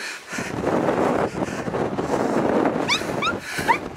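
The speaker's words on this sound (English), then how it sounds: "This is quite windy" Gusty wind roars across a mountain summit in the Scottish Highlands, a steady loud rush with some brief higher chirps near the end, while a voice speaks under it.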